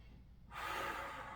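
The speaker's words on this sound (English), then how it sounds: "Breathing deeply on your exhale, twist a little more." Deep exhale during a twisting core and flexibility golf workout, a soft breathy rush that starts halfway through and holds steady, close and fairly quiet.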